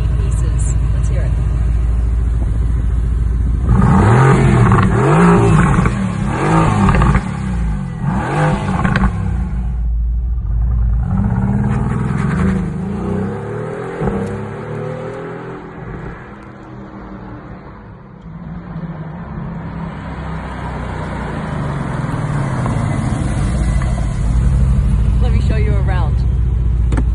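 A Mercedes-AMG GT R Pro engine revs repeatedly, rising and falling loudly and close, then settles toward idle before climbing again, with speech present but not dominating.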